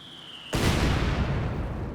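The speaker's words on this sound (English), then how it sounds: "Got some mortar shells coming in there" Incoming mortar shells explode in a video game. After a brief quiet stretch with a thin whistle, a loud, sudden blast hits, followed by a sustained rumbling roar of further impacts and nobody speaks.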